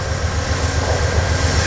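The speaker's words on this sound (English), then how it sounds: "Here they are, pulling out Amtrak 79." An Amtrak 79 passenger train pulls out of a station with a loud continuous rumble, rhythmic low wheel thumps repeating along the rails as it passes close by.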